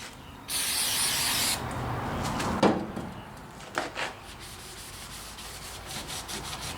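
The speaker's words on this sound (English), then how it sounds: "Spray this down with some prep off." A spray bottle of surface prep cleaner hisses in a long continuous burst on a 1985 Chevy K10 under restoration, followed by soft rubbing and a few light knocks and scrapes.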